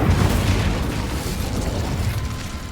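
A fire spell bursts in Hogwarts Legacy, a loud roaring blast of flame that rumbles on as a dense, sustained whoosh across the whole moment, with no talk over it.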